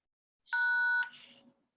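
A payment terminal app on a phone gives a bright electronic beep as a card is tapped against the back of the handset. One steady half-second tone is followed by a softer, fading tail, heard close and alone.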